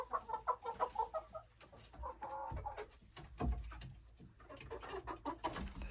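Chickens and a rooster on a homestead, clucking and cooing in repeated close bursts, with a short squabbling flurry partway through and steady background calls.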